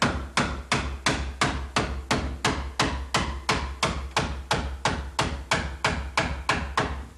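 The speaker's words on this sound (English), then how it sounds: "you can just pound it right through that" Hammer pounding nails through soft wooden shingles on a house, a fast, even series of about twenty sharp close knocks with no talking.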